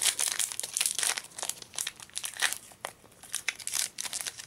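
A foil Pokemon XY-series booster pack being torn open, with continuous crisp crinkling and crunching of the wrapper in quick irregular bursts, close and fairly loud, with no talking.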